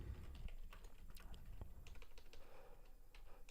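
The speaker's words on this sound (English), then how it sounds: "I'm just typing some alerts as I kind of wait" Quiet computer keyboard typing, irregular clusters of soft key clicks with brief pauses, fairly close, no voices.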